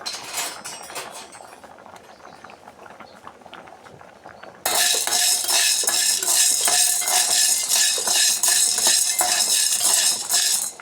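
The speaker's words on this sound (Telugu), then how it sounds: "ఇగో చింతగింజలు వేయించుకుంటే ఎంతమందికి తెలుసు?" Tamarind seeds rattle and scrape as they are roasted and stirred in a pan, a dense close clatter that grows sharply louder midway and continues steadily.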